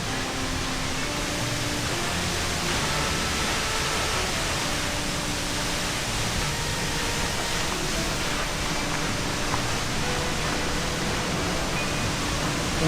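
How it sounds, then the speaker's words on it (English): A misty waterfall pours in a dense, even roar of falling water, steady and fairly faint throughout with no voices. "Now there's heaps of mist coming off this waterfall"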